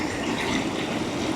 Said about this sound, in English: Got another water feature here.